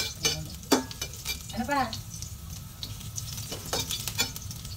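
Fish sizzling in a frying pan as it cooks to golden brown, a soft steady crackle with a few sharp clinks of stirring, while people chat over it nearby.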